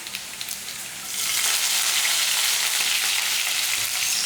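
Urad dal and curry leaves fry in hot oil, a sharp hiss that swells suddenly after a quieter second and then holds as a dense, steady crackling sizzle close by.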